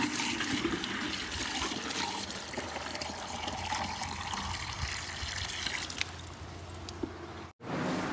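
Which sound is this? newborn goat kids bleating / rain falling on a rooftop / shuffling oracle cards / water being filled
water being filled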